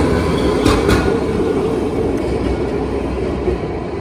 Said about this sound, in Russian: Сейчас трамвай проедет.